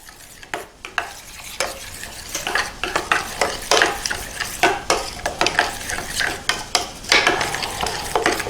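Wing sauce being stirred with a spoon as a teaspoon of chili powder is mixed in, a close, steady run of scraping, clinking strokes against the bowl, loud and unbroken with no talking.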